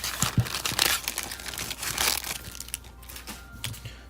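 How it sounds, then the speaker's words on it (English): Holographic trading cards are shuffled close by, making fast crisp rustling, slapping and crinkling that comes in dense bursts and then eases off. "We use the holographic cards for like the hollow shuffle."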